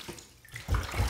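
Running water from a tap rinses a razor during a shave, a short splashing burst that swells loud toward the end with no talk.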